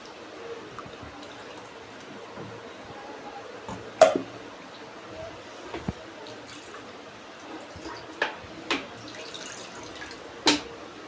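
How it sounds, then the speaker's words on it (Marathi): A mixer grinder jar is rinsed out with water in a home kitchen: a faint, quiet swish of water punctuated by a few sharp clinks and splashes from handling the jar. "मिक्सरचं भांडं करून घेते आणि भांडं चांगलं धुवून घेते"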